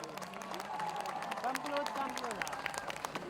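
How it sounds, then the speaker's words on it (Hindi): An audience applauds steadily at a film song launch event in Jaisalmer, a dense patter of clapping with music or voices running underneath. "आप सबके लिए जोरदार तालियां हो जाएं इनके लिए एक बार।"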